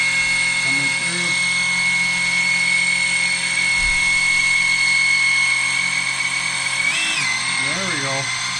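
A cheap battery-powered oil pump whirs with a steady, loud motor hum that holds throughout, with a few brief pitch wobbles near the end.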